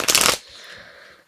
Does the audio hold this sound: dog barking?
no